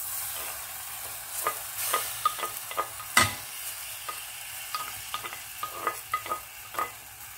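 Chopped aubergines and peppers frying in a pan with tomato, a constant sizzle with scattered scrapes and clinks of stirring and one sharper clatter, close and alone without talk.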